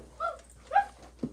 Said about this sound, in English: There's a soft sound like howling.